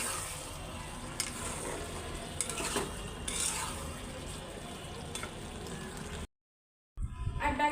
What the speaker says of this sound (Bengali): লবণ, হলুদ সব কিছু দিয়ে এটা রাইস কুকার আগে ভালো করে কষাবো